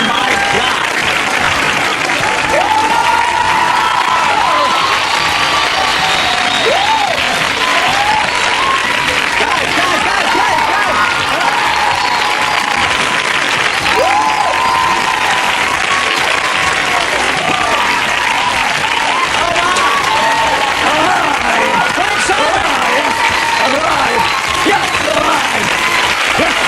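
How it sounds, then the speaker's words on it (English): An audience bursts into loud, sustained applause with cheering at a world-record stunt of balancing an electric stove on the teeth, continuous clapping with excited shouts on top, lasting throughout. "Everybody clap for me."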